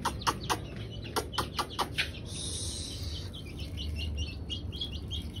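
Chicks cheep and chirp at feeding time, a run of short sharp peeps early on with a steady murmur of birds and a low hum underneath, moderately close.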